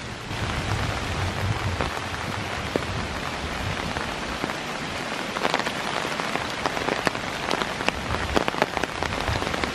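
Steady, heavy rain pattering on surfaces nearby, with dense crackling drops and a low rumble underneath, no voices.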